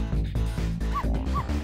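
Missile, a small dog in the Ghost Trick: Phantom Detective video game, gives a quick run of several high yips and barks, close and clear, with short whimpering tones between them.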